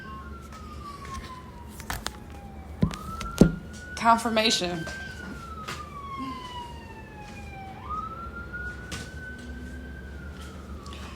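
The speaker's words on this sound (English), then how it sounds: "it's crazy how now I hear the ambulance" An ambulance siren wails steadily in the distance, rising and falling in long sweeps, with a voice speaking briefly over it.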